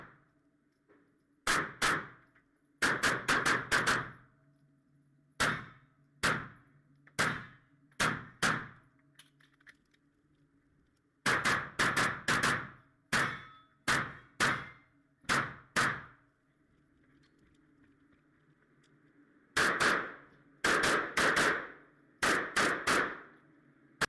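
A CZ 75 Tactical Sports Orange pistol fires during a 15-meter accuracy test. Loud, sharp reports come alone or in quick strings of two to four, separated by short pauses over a faint background hum.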